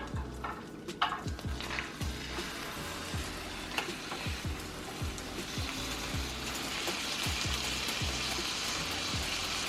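Steak and garlic fry in butter in a pan, a steady close sizzle with repeated soft clicks and scrapes of stirring or turning, the hiss swelling louder toward the end, no talk.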